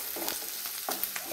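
Ginger sautéing in a pan for inchi puli, a quiet close sizzle with a few light stirring scrapes, no voices.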